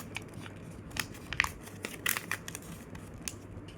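Paper is folded and creased up close for a paper airplane, giving soft crinkles and sharp crisp snaps in irregular bursts over a quiet background, with no talking.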